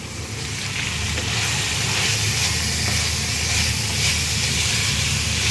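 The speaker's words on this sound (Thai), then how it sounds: "ผัดหมูอีกนะคะ" Pork stir-frying in a hot pan for a Thai khanom jeen nam ngiao dish, a loud steady sizzle and hiss with faint stirring scrapes throughout.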